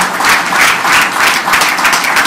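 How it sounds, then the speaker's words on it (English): A reception audience in Philadelphia with Prime Minister Trudeau breaks into loud, close applause, a full and steady burst of many hands clapping together without speech. "yeah, that's worth an applause"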